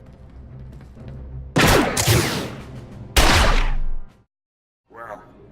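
Bursts of blaster gunfire in Star Wars: The Old Republic, two loud close volleys a second or so apart that stop abruptly, followed by a short quieter burst.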